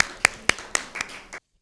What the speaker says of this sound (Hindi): आप सब अपने लिए ज़ोरदार तालियां बजाएं